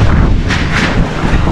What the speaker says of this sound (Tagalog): Ay, napakalakas ng hangin.